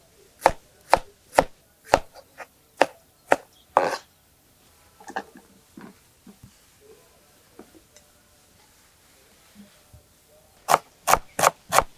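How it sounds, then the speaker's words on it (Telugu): Peeled garlic cloves and a piece of ginger pounded together for a country chicken rasam, a run of sharp, evenly spaced thuds, then a stretch of softer scraping and grinding, then another quick burst of firm blows. "8 వెల్లుల్లి ఒలిసిన రెబ్బలు, ఈ మాత్రం అల్లం ముక్క, ఈ 2 కూడా కలిపి దంపుకొని పక్కన పెట్టుకోవాలి"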